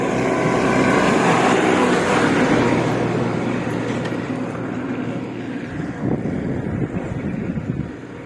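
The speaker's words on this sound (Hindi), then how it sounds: "ट्रैक्टर।" A farm tractor's engine runs steadily on a small village road, producing a loud, continuous low rumble mixed with heavy wind buffeting throughout, easing slightly toward the end.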